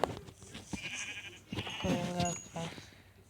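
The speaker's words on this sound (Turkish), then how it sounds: "Koyun kaynıyor buralarda" Minecraft sheep bleat several times in short, nasal calls spaced across a few seconds, close and fairly clear against a quiet game background.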